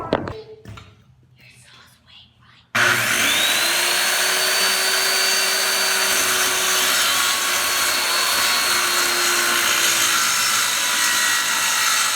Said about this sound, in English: Now we cut the plywood.